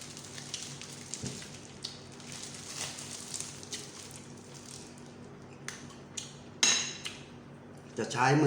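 Spoon clinks and scrapes against a plate as someone eats rice with Thai eggplant soup and grilled-fish chili dip, light intermittent taps with a sharper clatter near the end, no talking.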